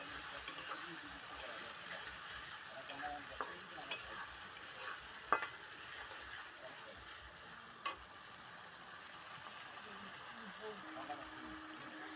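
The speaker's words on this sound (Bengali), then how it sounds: "ভাজা হয়ে গেছে এখন আমি টমেটো দিয়ে দিলাম" Tomato paste is stirred into frying meat, a faint continuous sizzle with occasional spoon clicks and scraping against the pan.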